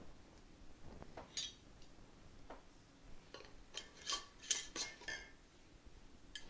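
Metal canning bands being fitted and twisted onto glass jars, producing scattered light clinks and ticks of metal on glass, faint and close, coming in irregular bursts with no voices.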